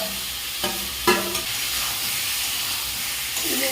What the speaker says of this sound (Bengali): এই ফ্রাই করে রাখা পনিরের টুকরোগুলো দিয়ে দিচ্ছি